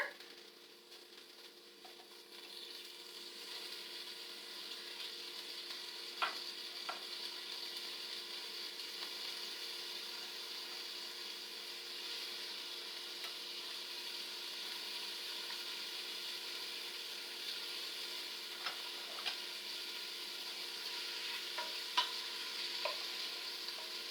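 Sliced kielbasa sizzles steadily in a hot pan, a constant bright frying hiss with a few light scrapes and clicks of a utensil stirring it around.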